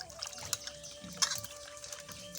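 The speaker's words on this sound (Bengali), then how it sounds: "তো চলুন এগুলোকে একটু ধুয়ে সুন্দর করে ফ্রেশ করে নিই" Vegetables being washed in water, with a soft trickle and light splashing that stay quiet and close, no voices.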